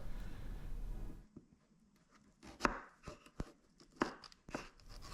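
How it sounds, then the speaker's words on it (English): A knife slices through zucchini on a board, cutting the squash into fry-sized pieces, with a few distinct crisp cuts and taps after a brief rustle at the start. "we're going to cut them into kind of fry-sized shapes"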